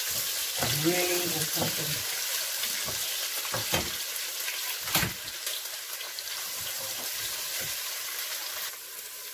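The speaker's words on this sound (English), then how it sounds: "Leave it to fry until it's a little bit" Oil and ingredients sizzle and fry steadily in a pot while jollof rice is being made, a continuous close crackle with a few stirring knocks and clatters, and a voice speaks briefly.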